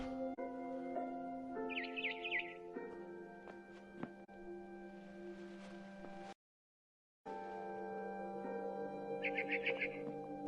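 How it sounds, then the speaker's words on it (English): A swallow chirps outside a window in the video game What Remains of Edith Finch, with two short, bright bursts of twittering several seconds apart over steady, tonal game ambience. "Then I heard chirping outside my window."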